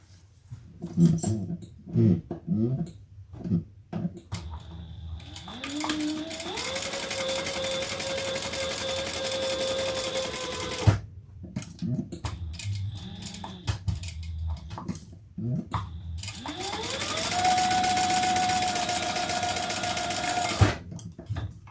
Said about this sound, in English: We'll sew them and then we'll cut it in two.